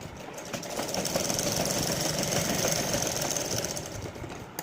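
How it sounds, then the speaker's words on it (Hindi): A sewing machine stitches a blouse with four tucks, its motor whirring and needle chattering steadily and close for a few seconds, swelling slightly then easing off. "अब मैं यहाँ पे सिलाई लगा दूंगी"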